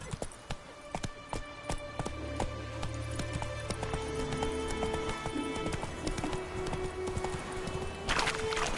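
Hooves of Roach, a horse in the video game Witcher 3, galloping in a steady rapid clip-clop rhythm, clear and close over an ambient game backdrop with low rumbling tones.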